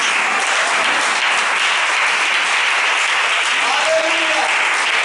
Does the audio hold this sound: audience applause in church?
yes